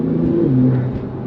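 A Porsche Turbo S in sport mode revs briefly, a close, loud, smooth engine note that rises and slightly falls over about a second.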